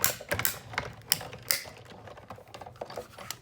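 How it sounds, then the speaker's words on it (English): A Sizzix die cutting machine crackles and pops as its blades press through paper against a cutting pad, giving irregular sharp clicks and snaps in close, fairly quiet succession with no talking. "It's just letting you know that the blades are hitting the paper and the cutting pad at the same time"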